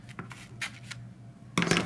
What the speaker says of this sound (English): Very good scissors.